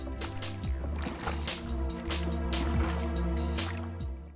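A boat motoring through the narrow stretch of Wular Lake, its engine a steady low drone beneath water lapping and dripping splashes against the hull, continuous and fairly close throughout.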